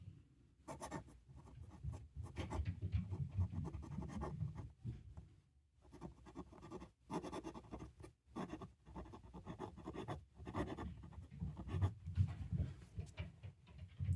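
A fountain pen nib scratches across paper in close, quiet strokes, a soft dry rasp that comes in bursts with short pauses between words and lines.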